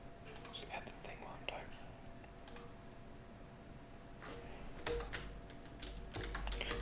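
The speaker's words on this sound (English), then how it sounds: "I'm typing." Typing on a computer keyboard during a live coding session, a run of quick, soft key clicks in irregular bursts, fairly faint, with quiet whispery noise around them.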